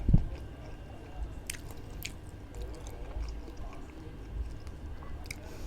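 Eating spicy fermented fish salad at home, with close wet chewing and squishy bites, a sharp crunchy bite at the start and a few clicky mouth sounds over quiet background.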